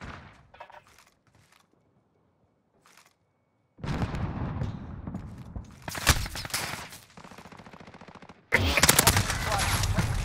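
Gunshots in Modern Warfare 2019 multiplayer: after a quiet opening with faint sounds, loud rapid bursts of automatic fire and sharp shots erupt, closing with a dense close-range volley, while a player talks over it.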